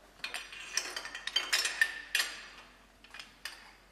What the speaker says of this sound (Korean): 푸시로드 하우징을 방향에 맞춰서 이쪽이 바깥쪽, 이쪽이 안쪽으로 들어가도록 바깥쪽, 안쪽 방향을 맞춰서 넣어줍니다.